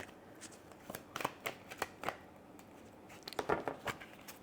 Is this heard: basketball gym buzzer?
no